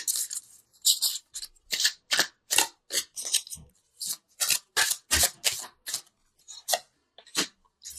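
Angel oracle cards being shuffled and pulled, a close, crisp run of repeated riffling flicks and slides in an irregular rhythm, heard alone without any talking.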